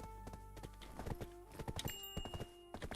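Horse hooves clip-clopping in an online fantasy video game, a quick run of close hollow hoof knocks over a humming musical game background.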